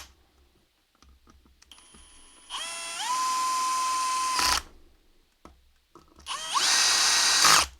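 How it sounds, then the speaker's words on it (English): A power drill on its minimum setting drives screws into an effect pedal enclosure in two close, loud bursts of whining motor, each rising in pitch as it spins up and cutting off abruptly. "it's on the minimum settings on the drill"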